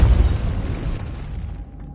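A Depulso spell cast in the video game Hogwarts Legacy lands as a heavy, booming burst that hits at once and then rumbles away over about two seconds.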